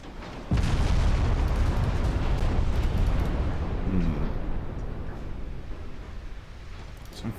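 A torpedo and shells explode on warships in a naval battle game: a sudden heavy boom, then a long, loud, rolling rumble of blasts that slowly fades.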